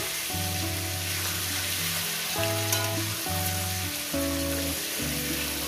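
Peeled boiled eggs sizzle steadily in hot oil in a pan, with a continuous hiss running under louder background music throughout.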